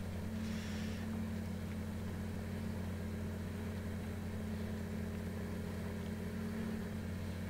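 The engine of the 8000 tractor in Farming Simulator 19 hums in a steady, even drone, idling with a constant low tone throughout and no talking.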